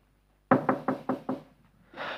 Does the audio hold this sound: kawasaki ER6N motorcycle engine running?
no